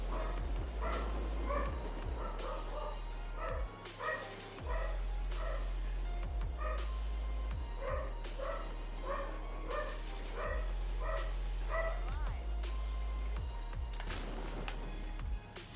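A dog barks repeatedly and loudly nearby in steady bursts over a constant low hum, with brief pauses between volleys.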